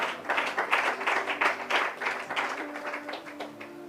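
A church congregation claps and cheers in worship, bursts of applause that swell and then taper off, with some rhythmic clapping and faint voices.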